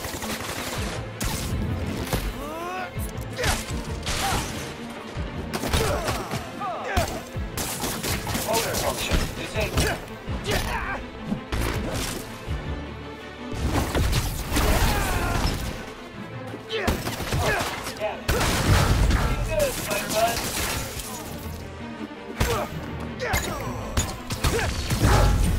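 Gunfire and combat impacts in the Spider-Man: Miles Morales video game, dense rapid bursts of shots, crashes and whooshes layered with game voices and music, loud and continuous throughout.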